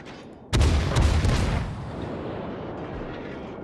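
Naval gunfire in World of Warships, with the Tier 3 Kitakami in the game: a sudden loud booming salvo with a heavy low-end blast, followed by a decaying rumble that fades into a steady background wash.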